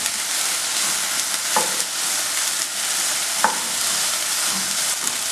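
Soya chunks frying in oil in a pan with a steady broadband sizzle, interrupted by two brief scraping stir sounds, close and alone with no talk.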